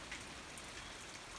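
Steady rain falls at night on a winter homestead, a dense even hiss of drops close by with no voices.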